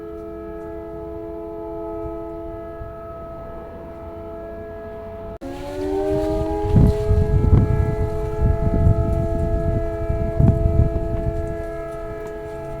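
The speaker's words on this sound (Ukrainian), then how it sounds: "Повітряна тривога знову." A civil defense air raid siren wails steadily with layered tones; partway through it rises sharply and grows louder, then holds a loud, sustained sound over background noise.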